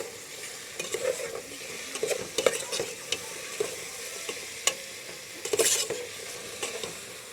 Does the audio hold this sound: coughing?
no